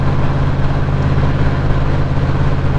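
A Factory 5 Racing Shelby Cobra replica's engine runs in a steady, deep rumble, loud and close with a constant low throb and no talk over it.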